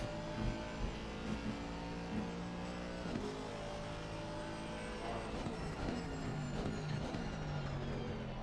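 Race cars roar around the track during an endurance race, a continuous layered engine drone with several cars revving and passing at a distance, steady and loud with no talk.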